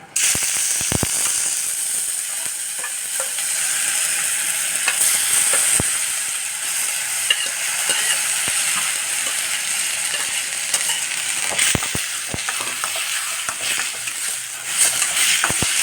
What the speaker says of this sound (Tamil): நெய்யில் நல்லா வதக்கி போடலாம்